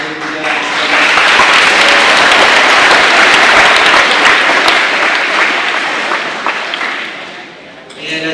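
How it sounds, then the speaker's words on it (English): A school Veterans Day assembly audience applauds in a loud, dense wave that swells, holds for several seconds, then fades away, with a voice briefly heard near the end. "let's give another round of applause to our veterans"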